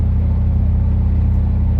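A 2007 Range Rover Sport with a limp-mode fault driving along, a steady low engine and road rumble inside the cabin, constant and even throughout.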